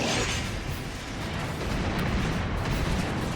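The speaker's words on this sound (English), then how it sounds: "Just a line of gunfire and missile from above." Gunfire and missile strikes rain down in the strategy video game Divinity: Dragon Commander, a dense, rumbling wash of distant explosions and bursts that stays loud and continuous throughout, with no talking.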